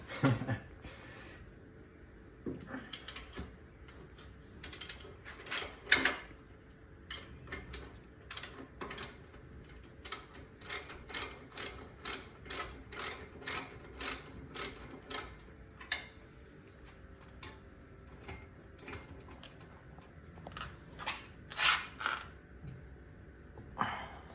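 A ratchet wrench clicks in quick rhythmic bursts while loosening bolts on a Ford Focus during a brake rotor swap, close and fairly quiet, with short pauses between runs of clicks.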